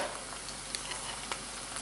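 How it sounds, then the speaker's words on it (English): Chicken sizzles steadily in a hot frying pan, a constant crackling hiss with occasional small pops, close by and without talk. "I can hear it sizzling."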